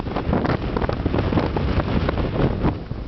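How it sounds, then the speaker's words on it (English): Strong wind at the South Col high on a mountain buffets the microphone as continuous roaring gusts, loud and close, with no voices. "it's a bit windy"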